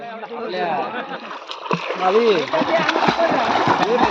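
Splashing and sloshing of people swimming in a river in the Konkan region, with irregular close splashes mixed under loud, excited voices and shouts.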